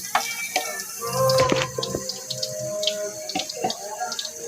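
Dishes are washed at a sink under a running tap, with steady water flow and occasional clinks and knocks of dishes throughout.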